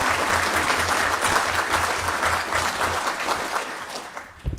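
Dense audience clapping at a town council meeting at a strong, steady level that thins out and tapers off near the end.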